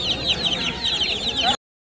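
Fighter long-tail chickens cluck at a busy pet market, a dense steady clucking chorus for a moment before it cuts off abruptly.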